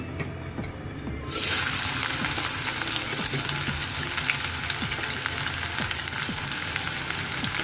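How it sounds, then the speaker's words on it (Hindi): Finely sliced onion hits hot oil for a mutton paya dish, bursting into a loud, steady sizzle after a second of quieter background and crackling on continuously up close. "एक अनियन स्लाइस या एक प्याज हमने बारीक बारीक काट ली है, वो हम इसमें फ्राई करने के लिए डालते हैं"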